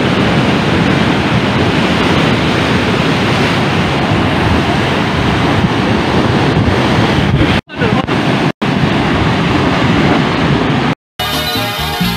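Steady roaring surf from breaking waves at Sungai Suci beach, Central Bengkulu, Indonesia, loud and continuous with wind buffeting the microphone, broken by a couple of brief dropouts near the end.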